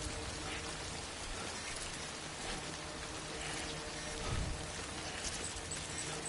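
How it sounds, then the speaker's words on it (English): Steady rain from the Death Stranding video game, falling as an even, dense hiss of drops that holds constant throughout, with no voices. "Oh, the rain is eating everything away!"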